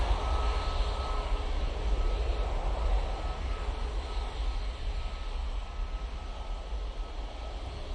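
A Ryanair passenger plane departs Manchester Airport for Riga, heard as a steady, fairly distant jet roar with deep rumble that holds evenly throughout.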